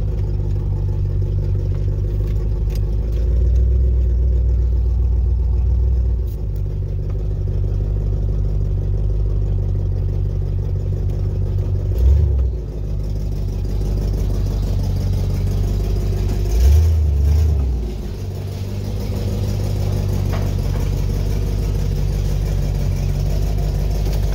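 A parked car's engine idles steadily outside a home garage, a low continuous hum with a couple of brief swells, with nobody talking.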